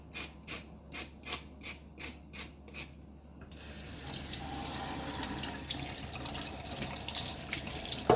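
Kitchen tap water runs into a sink while two young green bananas are scrubbed for a Jamaican goat head soup, rhythmic rasping strokes first, then a steady close rush of flowing water.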